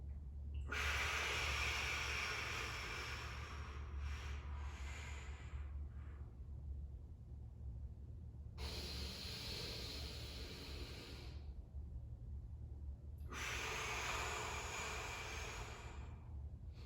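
Slow deliberate breaths during an active breathing exercise: airy inhales through the nose and longer exhales through the mouth, repeating in a steady cycle of about three close, soft breaths with no talking.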